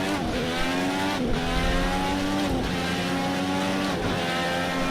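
A Dallara race car engine revs hard in a lap, dropping through the gears as it brakes into a corner, with sharp pitch changes at each downshift. The engine is loud and close, and no one speaks.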